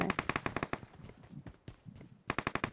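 Rapid bursts of automatic gunfire in the mobile battle-royale game PUBG Mobile: a fast volley of loud shots, a gap with scattered single cracks and softer impacts, then another tight burst at the end.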